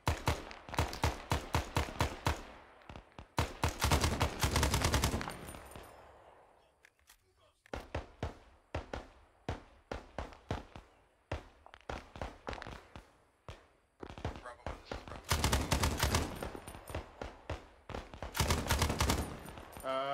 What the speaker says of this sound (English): we're gonna give him covering fire